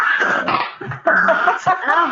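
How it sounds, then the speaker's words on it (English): A dog whimpers and yips in short, close, high-pitched bursts, broken by a brief pause, with people talking around it. "the dog"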